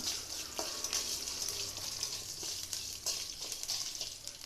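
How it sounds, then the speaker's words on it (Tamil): Garlic frying in oil with curry leaves and dried red chillies for lemon rice, a steady close sizzle with bright crackling and occasional stirring clinks, no voices. "கருவேப்பிலை போட்டேன், வரமிளகா போட்டேன், பூண்டு போட்டுறேன். பூண்டு கொஞ்சம் நல்லா வணங்கிருட்டும்."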